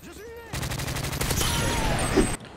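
Dense, rapid gunfire from a Call of Duty Modern Warfare 3 multiplayer match, sustained bursts overlapping loudly for about two seconds before cutting off abruptly.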